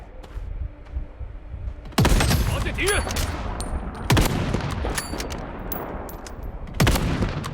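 Bursts of gunfire in the Blood Strike shooter game arrive in three loud volleys, each a sharp sudden onset followed by sustained rattling shots, over a low background hum between them.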